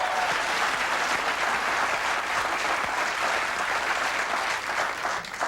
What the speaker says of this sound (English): Let's applaud the tree.